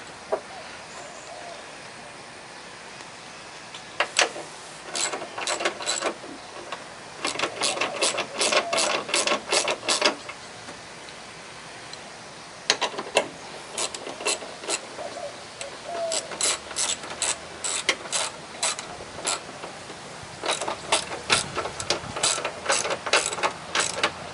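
Ratchet tightening strut nuts on a 2000 Toyota Corolla, several bursts of rapid close clicking separated by short pauses.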